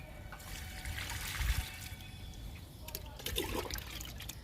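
Liquid fertilizer of fresh cow dung mixed with neem leaf liquid pours onto a large flowering potted plant, a soft close trickle and splash with a brief louder gush midway, under steady background noise.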